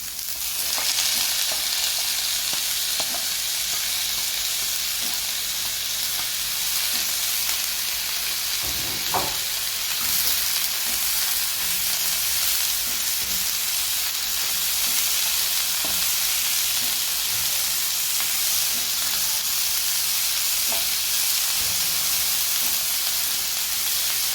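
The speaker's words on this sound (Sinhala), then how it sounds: "මම කපාපු එළවලු තක්කාලි හිටන් මේකට දැන් කලවම් කරනවා" Chopped vegetables and tomatoes are stirred into cheese kottu in a hot pan, producing a loud, continuous frying sizzle with occasional scraping and clacking of the utensil, no talking.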